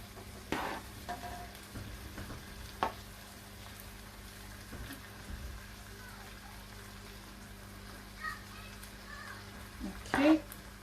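Rice and sautéed vegetables frying in a pan, with a faint sizzle broken by scattered scrapes and stirring clatter, and a voice speaking now and then.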